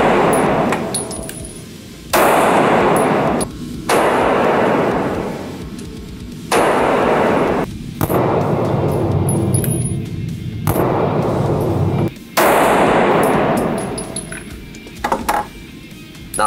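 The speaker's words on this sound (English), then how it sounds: "That's a SIG P320, baby." Shots from a SIG P320 pistol fired at an indoor gun range from about 10 yards, loud sharp reports spaced a second or two apart, with the ring of other lanes and clinking brass between them.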